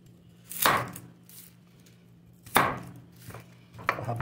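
A knife slices two medium onions lengthwise on a cutting board for a mullet fish paksiw, making three sharp, close chopping strokes separated by short pauses, with no talking.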